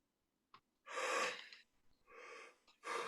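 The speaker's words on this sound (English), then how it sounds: "So let's take a deep breath." A person takes deep breaths: a brief sniff, then a long airy inhale, a softer exhale and the start of another inhale, close and clear, with no talk.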